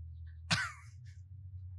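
A single short sneeze bursts out once against a quiet, humming background, followed by a faint breathy trailing sound.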